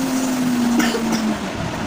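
A voice imitates a car driving, making a steady humming engine-like drone that tails off after about a second and a half in a toddler alphabet-sound lesson.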